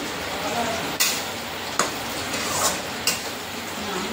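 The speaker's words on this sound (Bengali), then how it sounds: "কাঁচকলা আলু দিয়ে ভাজা ভাজা করে নিচ্ছি।" Potato and green banana pieces fry in a pan, a continuous sizzling hiss with three or four distinct clinks or scrapes of stirring spaced through it.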